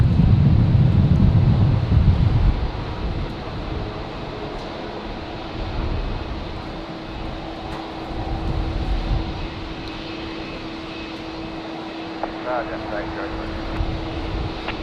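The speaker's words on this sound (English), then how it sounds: "the Qantas freighter departing now on 19 right" Qantas freighter aircraft departing runway 19 right at Brisbane Airport on a windy day: a loud engine roar at first that fades into distant rumble, with wind buffeting the microphone throughout.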